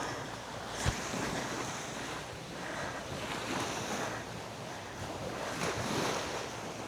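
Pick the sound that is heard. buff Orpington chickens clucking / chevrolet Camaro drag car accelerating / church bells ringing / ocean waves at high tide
ocean waves at high tide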